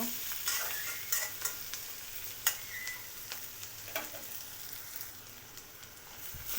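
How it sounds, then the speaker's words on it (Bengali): Onions frying in a pan until reddish for a fish curry, a quiet steady sizzle broken by sharp spoon taps and scraping stirs at uneven intervals, close by with no talking. "তো পেঁয়াজটা একটু লাল লাল করে ভেজে নেব"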